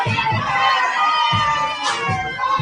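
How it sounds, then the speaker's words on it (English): Cheering crowd in restaurant footage, a busy wash of overlapping voices and shouts with a few louder yells rising out of the din, steady throughout. "you see all the people cheering it on"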